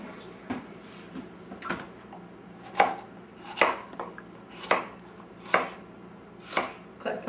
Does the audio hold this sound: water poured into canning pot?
no